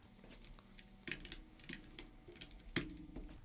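Someone typing on a computer keyboard while setting up Flutter at a command prompt, producing faint, irregular key clicks with a few louder taps and soft clatter against low room hum.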